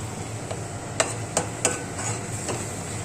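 Spinach paste stirred into cooked onions and tomatoes in a pan: a few distinct scraping clicks of a spoon against the pan over a steady low sizzle, with no talking.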